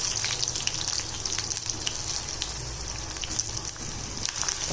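Boiled yam pieces and curry leaves fry in hot oil, giving a steady, close crackling sizzle with scattered sharper pops and no talk.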